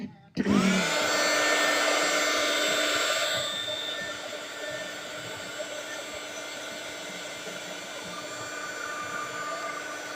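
A hair dryer switches on abruptly and blows steadily on a watercolor Christmas card, a loud, even whine and airy roar that drops slightly in pitch and volume after a few seconds and continues.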